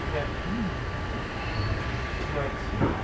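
Steady rumble and rattle from inside a moving passenger train, a continuous low drone with faint squeals and creaks, and a voice speaking softly over it.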